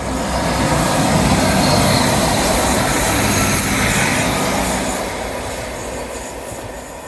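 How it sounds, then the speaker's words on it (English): A train rolls past along the seawall at Teignmouth on the seafront, a loud, close, continuous rumble of wheels and wagons with some squealing and clickety-clack, fading slightly toward the end. "Will it be a happy train? First train of the day?"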